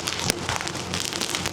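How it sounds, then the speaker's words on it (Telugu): Heavy rain pours during a scooter road trip around Ipoh and Penang in Malaysia, a dense, steady hiss of drops beating on surfaces, loud and close, with no voice over it. "మళ్ళీ వర్షం బీభత్సంగా పడుతుంది."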